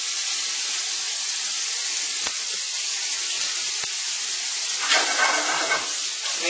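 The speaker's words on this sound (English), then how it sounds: "Make sure that everything is sauteed nicely." Tomato concassé and bay leaves sautéing in a pan give off a steady, bright hiss that runs throughout, swelling slightly toward the end, with no voices.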